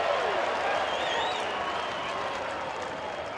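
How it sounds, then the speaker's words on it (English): A baseball crowd in the stands in Denver gives a Bronx cheer, a broad sustained wash of jeering and noise from the packed ballpark that stays steady throughout. "And the Bronx cheer here in Denver."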